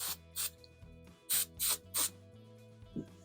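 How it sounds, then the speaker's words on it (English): Cleaner is sprayed onto a gun-cleaning setup in several short hissing bursts from a spray bottle, up close and distinct, over a quiet steady background. "So I want to go ahead and just spray a little bit of this on there."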